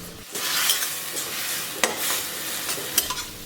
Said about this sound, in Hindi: इसे 4 से 5 मिनट तक और भूनेंगे